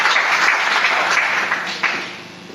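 Church congregation applauding to acclaim the Lord during a French-language sermon: dense, loud sustained clapping from a large crowd, tapering off toward the end.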